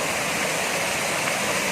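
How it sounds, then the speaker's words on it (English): A waterfall on a hiking trail rushes with a steady, dense roar that fills the whole stretch without pause. "Look at that waterfall, guys."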